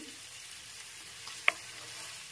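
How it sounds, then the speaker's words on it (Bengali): Mutton pieces fry quietly in a pan, a soft continuous sizzle broken by one brief sharp clink or pop near the middle. "মোটামুটি 2-3 মিনিটের মতো এপাশ ওপাশ করে ফ্রাই করে একটু তুলে নিচ্ছে এক এক করে"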